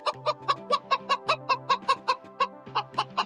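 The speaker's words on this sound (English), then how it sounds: "Or maybe a live chicken?" A live chicken clucks in a rapid, even series of about a dozen close, clear clucks with nothing else behind them.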